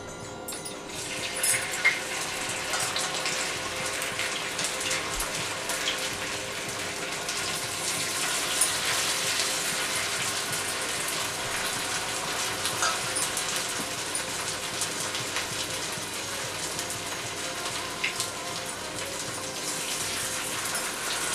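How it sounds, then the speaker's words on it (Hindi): Batter-coated cauliflower florets frying in hot oil, a steady broadband sizzle and hiss that runs continuously and fairly evenly throughout, with no talking. "उसे हम एक एक करके इस ऑयल में डालेंगे।"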